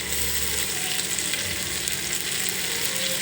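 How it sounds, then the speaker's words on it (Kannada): Paneer tikka pieces fry in a little oil in a pan, giving a steady, even sizzle with no talking. "ಇವಾಗ ಈ ಥರ ಇಟ್ಕೊಂಡು ಫ್ರೈ ಮಾಡ್ಕೊಳ್ಳೋಣ ಇದನ್ನು"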